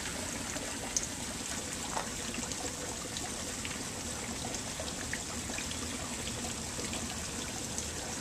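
Water trickles and splashes steadily over a small pond waterfall fed from the top, a constant close wash of flowing water with no voices.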